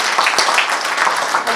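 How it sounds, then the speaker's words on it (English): Audience applause at a community gathering with the Canadian High Commissioner to Pakistan, a short burst of dense, steady clapping from a crowd, heard on its own. "So I'd give yourself a round of applause."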